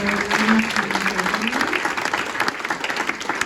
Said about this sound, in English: an incredible clap and standing ovation for Chavi.